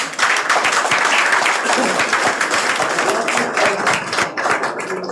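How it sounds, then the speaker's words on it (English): A room of people applauds directors at a press conference, with dense, sustained clapping that stays loud throughout and thins slightly toward the end. "So I want all of you to please give my directors a round of applause."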